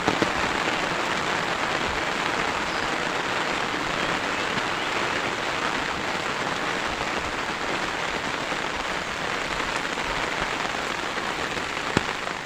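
Heavy monsoon rain pours steadily onto surfaces nearby in a Konkan village, a dense continuous patter with no pauses.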